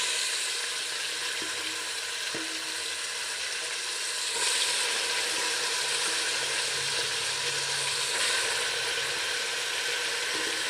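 Chicken pieces stirred with salt and turmeric in a hot pan for chicken sambar, giving a steady broadband sizzle with a few faint stirring knocks, continuous and fairly close, no talking.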